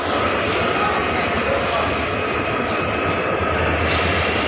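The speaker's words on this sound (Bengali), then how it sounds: "কমলাপুর রেল স্টেশন থেকে ট্রেনটি ছেড়ে যাবে নোয়াখালী উদ্দেশ্যে" A train departs Kamalapur railway station in Dhaka for Noakhali, a loud, continuous rumbling roar that fills the whole stretch, with people talking around it.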